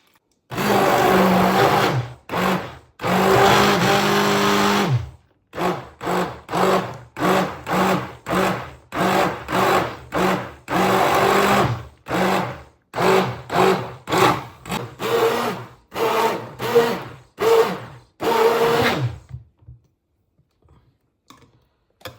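Blender whirring through strawberry lassi in a kitchen, running in a long series of loud pulsed bursts with short pauses between them, then falling quiet at the end.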